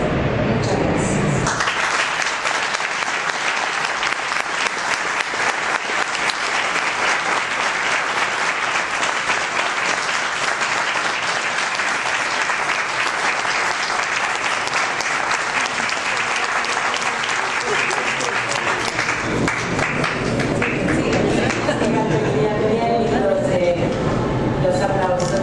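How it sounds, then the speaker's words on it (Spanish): An audience at a book presentation at the Buenos Aires book fair breaks into sustained applause, dense and steady clapping that swells, lasts a long stretch, then thins out as a voice returns. "Los aplausos"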